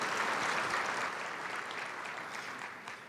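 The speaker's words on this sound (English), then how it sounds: "Let's give them a big round of applause as well." An audience at an education event applauds a student performance with a dense, steady round of clapping that slowly fades, heard alone without talk.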